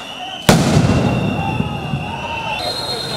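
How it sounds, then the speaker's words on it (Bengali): A loud sound grenade burst fired by police to disperse student protesters during a clash at Dhaka University, one sharp boom with a long ringing tail, a steady tone in the background. "পুলিশ আন্দোলনকারীদের ছত্রভঙ্গ করতে সাউন্ড গ্রেনেড ও রাবার বুলেট নিক্ষেপ করে"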